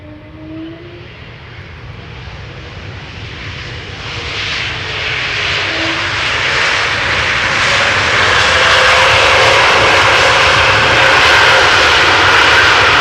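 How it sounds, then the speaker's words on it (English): An Air Transat Airbus A321neo arriving from Montreal at Amsterdam Schiphol rises from a moderate whine into a loud, broad jet roar that swells and holds as it passes close, with no talking. "Air Transat A321 Neo, arriving from Montreal"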